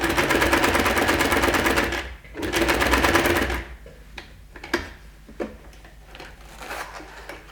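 A sewing machine fitted with a ruffler foot stitches frills and pleats in a rapid, loud mechanical chatter that breaks briefly, resumes, then stops, leaving scattered clicks and handling noises.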